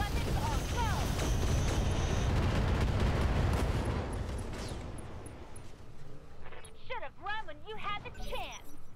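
Mech weapons fire in the Roguetech battle game: a dense, loud barrage of booming shots and explosions rolling together, thinning out into scattered sharper blasts near the end.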